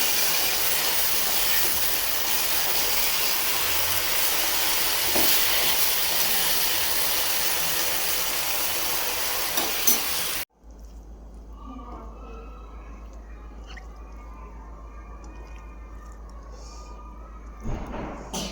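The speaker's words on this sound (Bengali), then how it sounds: "আর কিছু সিম আর আলু ভাজি দিয়ে দিচ্ছি" Flat beans and potatoes fry in a pan with a loud steady sizzling hiss that cuts off abruptly partway through, leaving quieter kitchen sounds and a low hum.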